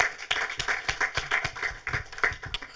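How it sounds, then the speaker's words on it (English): A small audience at a film lecture applauds with sparse, uneven handclaps, close and fairly quiet, over a few seconds. "I think it deserves an applause again."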